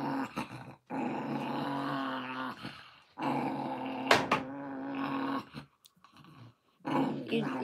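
An older, overprotective dog growls in several long, rumbling bursts separated by short silences, loud and close.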